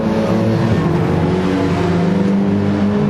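Race cars in Gran Turismo 7 in a drag race down a hill, engines droning loudly and continuously with layered pitches overlapping, close and alone without talk.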